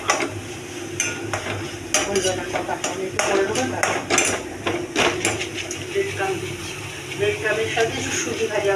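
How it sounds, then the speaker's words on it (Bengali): Chicken with spices roasting in a pan for home-made Mughlai paratha, heard as steady stirring and the clink of utensils against the pan under a low sizzle, with a voice talking throughout. "সমস্ত মশলাপাতি দিয়ে চিকেন দিয়ে এই যে এটা রোস্ট করা হচ্ছে"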